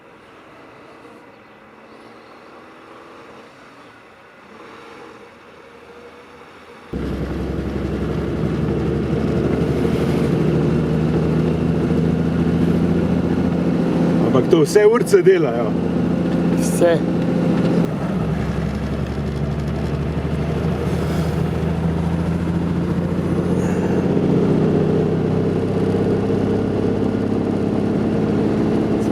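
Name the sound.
vintage Mercedes-Benz 200 Cabrio W21 car engine while driving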